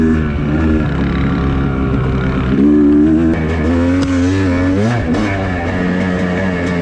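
A KTM dirt bike ridden on a wooded off-road ORV trail at Kalkaska, its engine droning loud and close from the rider's position, revving up and down in pitch as it accelerates, with no talking.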